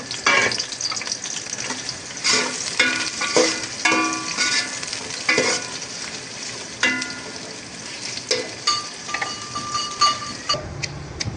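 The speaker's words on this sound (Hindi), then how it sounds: "तो तेल गरम करने के बाद सबसे पहले हम लोग प्याज लेंगे। प्याज को हमने फ्राई करना है।" Onions fry in hot oil, a close crackling sizzle with irregular pops and spatters plus occasional stirring clinks, steady across the whole stretch.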